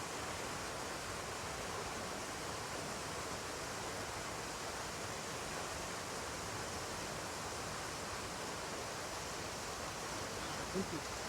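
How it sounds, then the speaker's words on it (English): Curtis Falls, a waterfall on Tamborine Mountain, gives a steady, even rush of falling water that stays constant and moderately loud throughout, with no speech. "So the waterfall before you is called Curtis Falls."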